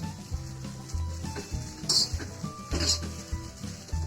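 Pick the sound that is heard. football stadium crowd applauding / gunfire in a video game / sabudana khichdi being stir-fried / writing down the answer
sabudana khichdi being stir-fried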